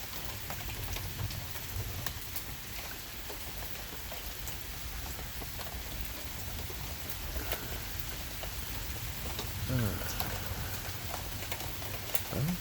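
Steady rain during a thunderstorm, a dense even patter of drops on surfaces with scattered sharper drips, continuous and moderately near, with a brief rustling bump late on.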